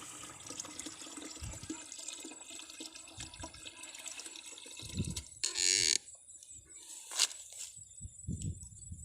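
Water is released into a self-watering vegetable planter pot. There is a faint trickle and two brief gushing bursts of flowing water over quiet outdoor background noise.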